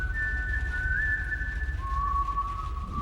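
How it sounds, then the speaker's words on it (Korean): An eerie, unpleasant human whistle holds a thin sustained tone, then slides down to a lower pitch and holds again, alone over a low background rumble. "처음 듣는 기분 나쁜 휘파람 소리."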